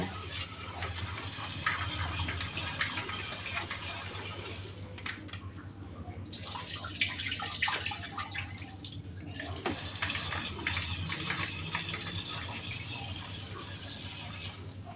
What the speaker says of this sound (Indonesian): Nah, kita rendam di sini, kita cuci dulu ya.